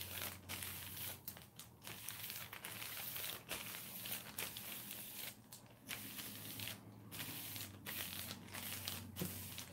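A plastic bag crinkled over hair on the head, close and continuous, with irregular rustling bursts and brief pauses throughout.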